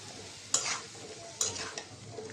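Pumpkin is tossed into a pan with fried onions, green chillies, salt and turmeric, giving a soft sizzle and two sharp stirring scrapes about a second apart.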